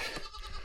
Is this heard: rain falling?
no